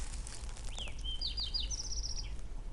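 Several high, thin bird chirps and short whistled calls ring out over steady wind in the trees outdoors, fairly faint and spaced apart.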